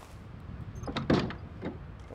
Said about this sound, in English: Close the door, why not?